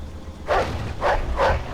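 A dog in the Mafia 2 video game barks three times in a steady rhythm, each bark short and mid-loud, over a low background hum.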